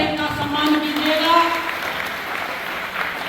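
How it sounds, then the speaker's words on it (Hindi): A crowd applauds loudly to honour village children at a ceremony, a steady wash of clapping with voices mixed into it. "जोरदार तालियों से इनका सम्मान कीजिएगा।"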